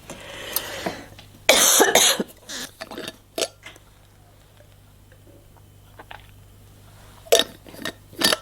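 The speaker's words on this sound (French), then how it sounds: "Ah, voilà pourquoi je tousse." Several loud coughs in short bursts, with quieter throat sounds and small noises in between, close to the listener.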